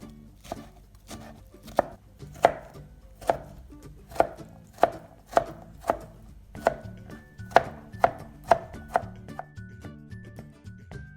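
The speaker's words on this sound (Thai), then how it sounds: "ต้องหั่นอีก" A knife chops artichoke steadily against a cutting board, sharp close knocks in an even rhythm, about a dozen strokes, with faint background tones.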